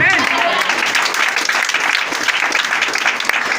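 A church congregation bursts into sustained, dense applause, loud and steady throughout with a crowd's clapping filling the whole room.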